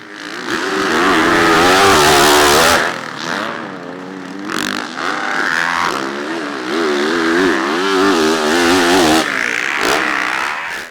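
Yamaha YZ450F motocross bike riding nearby, with its loud single-cylinder engine revving and shifting in pitch as it accelerates and backs off repeatedly.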